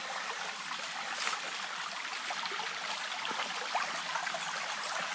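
A wilderness creek flows and trickles steadily, a continuous bright rushing of water close by with no voices over it.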